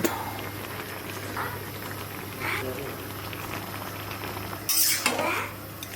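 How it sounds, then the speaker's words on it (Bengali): Spices with a little chili powder sizzling in a wok with beef and fat: a continuous bubbling sizzle with clinks of a utensil against the pan and a brief louder scrape near the end, under occasional background noise. "একবারে শ্যাক শ্যাক করতেছে"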